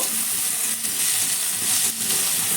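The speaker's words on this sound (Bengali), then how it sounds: "টমেটোটাকেও একটু পেঁয়াজের সঙ্গে একইভাবে ভেজে নেব" Chopped tomato frying together with onion in a hot pan, giving a steady, loud, even sizzle with a faint hiss that holds through the whole stretch, with no voices.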